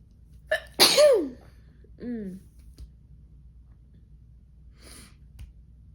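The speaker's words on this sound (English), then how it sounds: "I have not been sneezing at all until like right now" A sharp, close sneeze bursts out, followed by a short voiced sound and a faint sniff in an otherwise quiet room.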